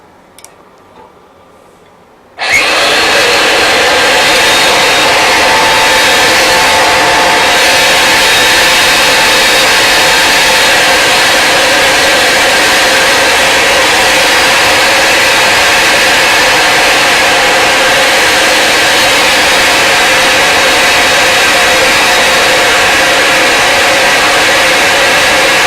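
Ridgid 975 combo roll groover grooving pipe, a loud steady mechanical whir with a faint ticking rhythm that starts abruptly after a short quiet lead-in and runs on evenly, no voices.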